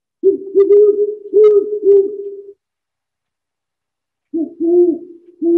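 Owls in North America hoot and call in a few deep, rounded notes in quick succession, a pause of silence, then a second set of softer, clear hoots.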